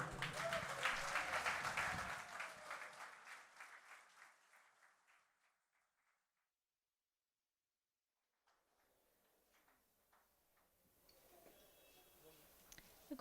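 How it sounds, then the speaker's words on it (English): A crowd at a singing competition final applauds after a Portuguese marcha, the clapping loud at first, then thinning and fading to silence before a voice starts speaking faintly. "A good round of applause for that track, O Laurindinha."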